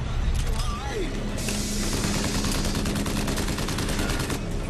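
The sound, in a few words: gunfire in the video game BioShock Infinite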